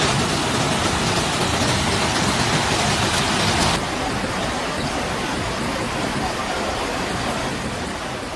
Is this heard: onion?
no